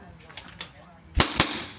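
An airsoft gun dry fires without ammo, a few faint clicks followed by two sharper, louder snaps close by.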